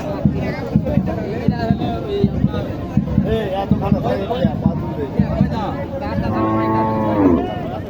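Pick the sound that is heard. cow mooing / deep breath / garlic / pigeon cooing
cow mooing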